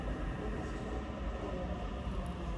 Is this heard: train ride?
yes